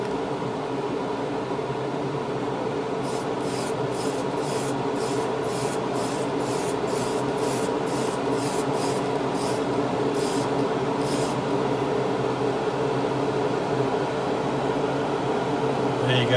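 A spray gun lays a second coat of 2K clear over decals: a steady airy hiss over a low hum, broken by a run of short, regular spray bursts.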